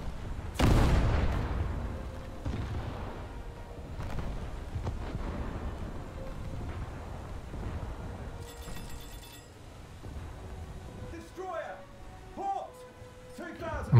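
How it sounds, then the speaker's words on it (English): Naval artillery strike in a warship video game, a heavy booming salvo that opens loud and then rumbles and thuds more faintly with scattered impacts, under a player's voice. "I underestimated his speed, so I think my artillery strike is going to be missing"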